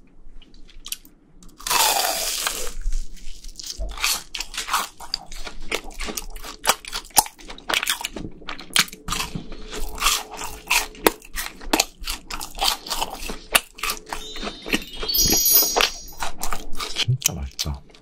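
Crunchy fried cheese balls, served alongside chicken, are bitten and chewed close up, giving repeated crisp crunches and soft chewing sounds in an irregular rhythm, with occasional quiet talk between bites.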